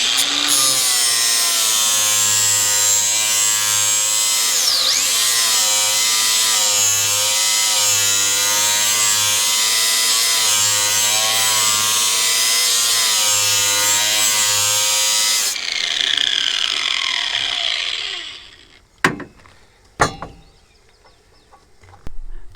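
A lawn mower blade is ground on an electric sharpening tool, a loud steady whirring grind with a pulsing low hum lasting about fifteen seconds before the motor winds down, followed by a few sharp knocks.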